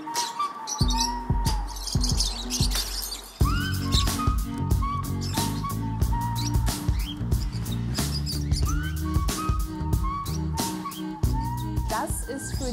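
Pet birds at an avian vet's home by a fence on Hermsdorfer Damm in Berlin-Reinickendorf, chirping and tweeting in quick bursts throughout, with people talking nearby.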